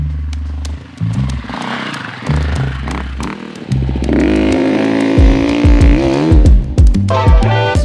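Husqvarna FE 350 dirt bike ridden off-road in second gear, the close engine revving up and down in repeated bursts with throttle blips, rising pitch and clattering over rough terrain.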